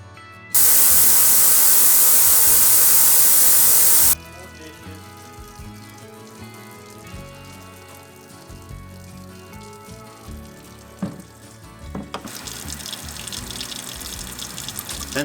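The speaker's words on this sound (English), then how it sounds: "washing the worst of the dirt off before it goes into the ultrasonic cleaner" Dirty Honda GL1800 suspension parts washed with a water spray before ultrasonic cleaning, opening with a loud steady hiss, then running water and clattering parts in a workshop, with the spray rising again near the end.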